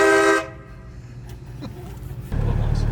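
A loud train horn fitted to a BMW E90 car blasts briefly at the start, then cuts off, leaving low road and engine rumble with faint voices nearby.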